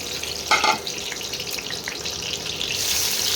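Eggs rubbed with salt and turmeric sizzling as they hit hot oil in a pan, a brief louder burst of spatter followed by a steady crackling fry, close and alone.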